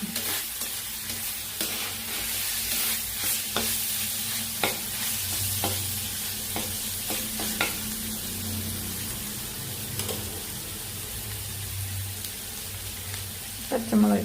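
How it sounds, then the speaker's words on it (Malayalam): Steady sizzling of Kottayam-style beef curry frying in a pan, with a spoon repeatedly scraping and stirring through it in irregular strokes, close and fairly loud. "നമുക്ക് ഇളക്കി കൊടുത്താൽ മതി"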